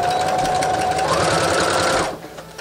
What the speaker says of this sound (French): Puis on vient encore une fois coudre à 1/4.